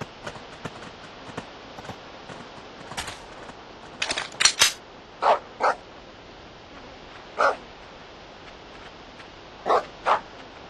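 A hunting dog in Deer Hunter 2017 barks in short sharp yelps, a handful of separate barks spaced a second or two apart, with faint clicks and rustles in the background.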